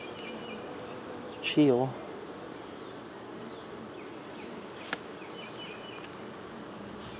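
Honey bees buzz faintly around a hive in July, a low continuous hum with a brief louder pass of one bee nearby; someone speaks a single word over it.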